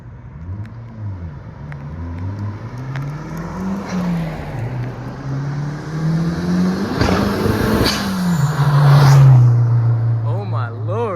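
A Mitsubishi Eclipse GSX drives past, its engine note climbing and swelling as it nears, with sharp hissing bursts from the blow-off valve as it lets off, loud and close at the peak.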